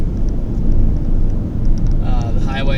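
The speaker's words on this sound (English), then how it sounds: "So I'll let you listen to the road noise again." Low, steady road rumble and tire hum inside a 2013 Ford Escape SE with a 2.0L engine, cruising on the highway, with a faint higher whine appearing near the end.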